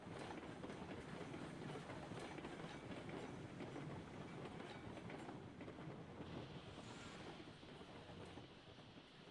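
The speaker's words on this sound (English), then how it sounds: "Train." Train rolling along rails in the Railroads Online game, a steady dense rumble with faint clickety-clack, loud and continuous throughout and easing slightly toward the end.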